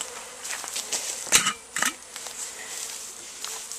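Honey bees buzz around a hive being robbed as a sugar-water feeder is unscrewed, a steady faint insect drone with a few louder close passes of individual bees.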